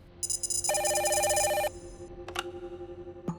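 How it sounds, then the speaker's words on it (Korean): Telephone ringing with bright electronic trill bursts for about a second and a half, followed by a couple of short clicks and a faint tone, clear and close. "전화 한 통이 걸려옵니다."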